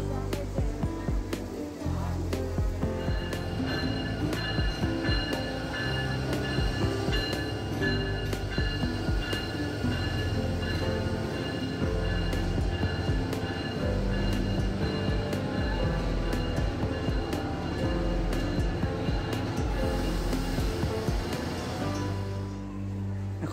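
Rangpur Express passenger train at a station platform, a continuous loud rumble of rail cars with clattering wheels and metallic squeals running throughout.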